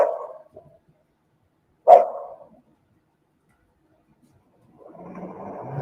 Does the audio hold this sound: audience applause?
no